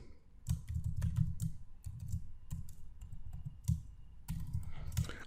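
Rapid, uneven keystrokes on a computer keyboard while code is entered, close and clear, in bursts with short pauses and no talking.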